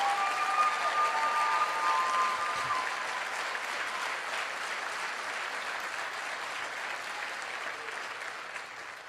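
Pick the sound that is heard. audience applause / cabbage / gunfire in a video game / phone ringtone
audience applause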